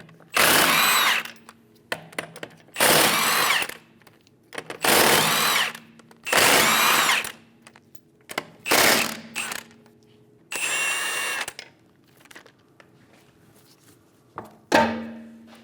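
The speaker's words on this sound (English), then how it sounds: "Using a 17mm socket, remove the 5 lug nuts." Several loud bursts from an impact tool or power drill spinning off the five 17mm lug nuts on a 2010-2015 BMW X1 xDrive rear wheel, each whirring burst about a second long with short pauses between, close by and without talk.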